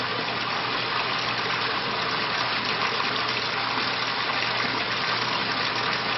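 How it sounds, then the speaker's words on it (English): Hot water streams steadily into a Bradley Navigator thermostatic mixing valve, a constant broadband gush with no breaks, close and fairly loud. "Once I reintroduce the hot water into the valve, within a matter of seconds, I will come back to the desired set point."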